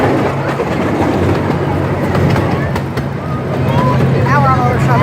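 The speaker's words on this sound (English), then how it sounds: "one of two trains that operate on the Lake Winnipesaukee Railroad" Passenger train CP1 on the Lake Winnipesaukee Railroad at Lake Winnie amusement park, heard from on board: a steady loud rumble with faint clickety-clack of wheels over rail joints and a few squealing tones near the end.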